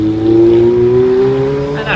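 A car passes close by on a London street at the northern approach to Vauxhall Bridge, its engine note droning and shifting in pitch as it goes, loud and near amid general traffic noise.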